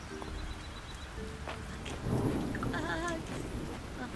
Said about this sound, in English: Not a big fan of the rain.